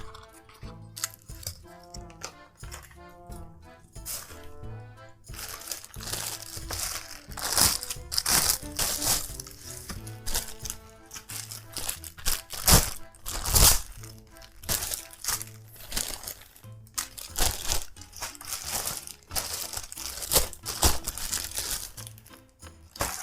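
Plastic and paper packaging from Daraz 11.11 mystery boxes is torn open and crumpled, a long stretch of loud crinkling, crackling and rustling close to the microphone with irregular bursts and no talking.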